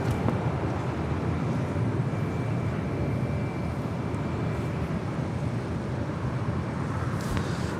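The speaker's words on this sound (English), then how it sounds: "that is United Airlines Flight 99 coming in from Melbourne on the 787-9 Dreamliner" A United Airlines Boeing 787-9 Dreamliner, Flight 99 from Melbourne, lands at Los Angeles International Airport as a steady, broad, rumbling jet roar that holds evenly at a moderate distance with no voices over it.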